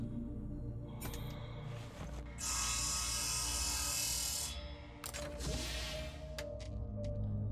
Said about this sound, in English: Saw drill!